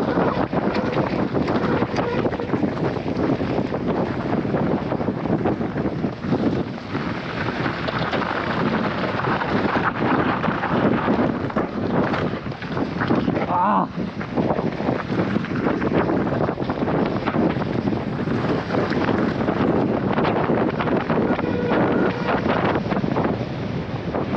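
Powerful wind blasts continuously against the microphone on Mount Uhud, a loud, unbroken roar with gusty surges throughout.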